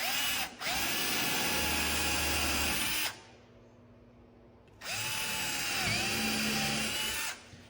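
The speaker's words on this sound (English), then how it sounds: "I will drill some holes" A power drill boring screw holes into a frameless cabinet panel during assembly, with two long loud whirring bursts separated by a short pause and a brief stop near the start.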